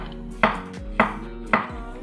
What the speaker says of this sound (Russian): Все, грибы нарезал, убираю тоже в сторону.